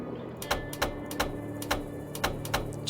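Sharp mechanical clicks from a puzzle in the Nancy Drew game Last Train to Blue Moon Canyon, about seven evenly spaced snaps over a soft background hum, with no talking.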